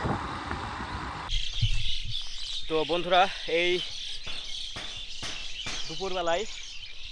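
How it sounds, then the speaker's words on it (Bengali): Birdsong in a village countryside setting at midday, several short chirping phrases rising and falling over soft outdoor ambience, with someone talking over the start. "পাখির কিচিরমিচির শব্দ"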